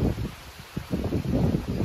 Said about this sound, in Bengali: প্রচন্ড হাওয়া হচ্ছে